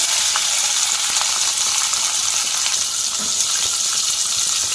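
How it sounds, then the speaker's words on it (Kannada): Onions sizzle and crackle steadily in hot oil with popping mustard seeds in a tempering, a close, continuous frying hiss with no talking. "ಒಗ್ಗರಣೆಗೆ ಸಾಸಿವೆ ಮೇಲೆ ಈರುಳ್ಳಿ ಹಾಕ್ತಾ ಇದ್ದೀನಿ"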